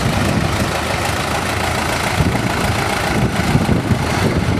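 A tractor engine runs steadily at the Red Power Round Up show, a broad, dense rumble with low-end throb holding constant throughout, close and fairly loud with no talk over it.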